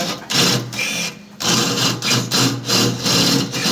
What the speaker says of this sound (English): We're all welding on around 30.